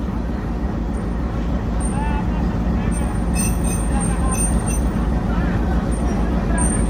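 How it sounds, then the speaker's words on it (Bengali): A Gono Ovvuthan special train pulls out of Padma railway station in Bangladesh, a steady loud rumble of wheels and running gear with faint higher squeals above it. "আর এইমাত্র পদ্মা রেল স্টেশন ছেড়ে দিল গণ অভ্যুত্থান স্পেশাল ট্রেন"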